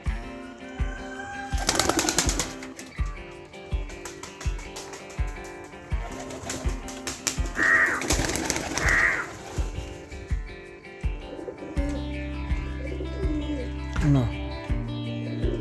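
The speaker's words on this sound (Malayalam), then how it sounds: "പ്രാവളൊക്കെ മേലൊക്കെ പാറിയിട്ടുണ്ട്" Pigeons coo among other bird calls, with a couple of loud bursts of flapping wings nearby.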